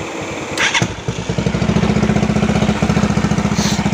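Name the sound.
motorcycle engine starting with electric starter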